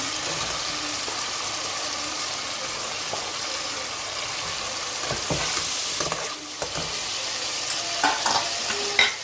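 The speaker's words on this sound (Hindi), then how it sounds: "अब हम इसमें ये चिकन डाल रहे हैं।" Steady loud sizzling of chicken frying in a pan with browned onions, with occasional scraping and stirring sounds near the end, no talking.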